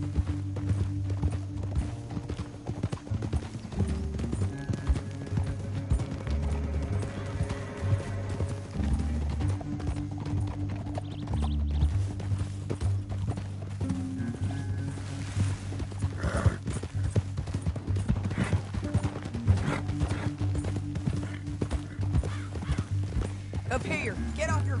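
Horse hooves clip-clop steadily through the whole stretch in the Red Dead Redemption 2 story mode, mixed with an occasional whinny, a loud music score and voices talking over it.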